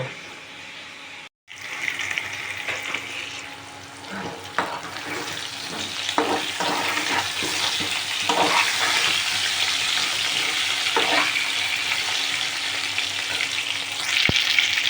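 Potatoes frying in hot oil while chicken is being prepared, a steady close sizzle that runs throughout with intermittent stirring clatter and no voices.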